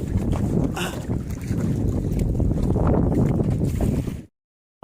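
Strong wind gusting over open water on a boat, a loud continuous rumble of wind and sea that cuts off abruptly near the end.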